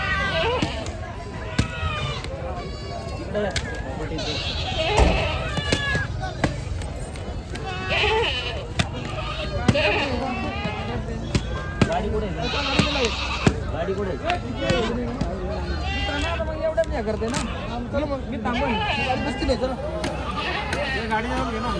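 Kathewadi goats at a busy Maharashtra livestock market bleat repeatedly, some near and some farther off, over constant crowd chatter, scuffling hooves and knocking thuds.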